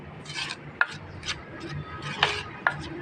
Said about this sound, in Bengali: এখন আমি আবার এটা দিয়ে নাড়াচাড়া করে নেব একটা ডো তৈরি করে নেব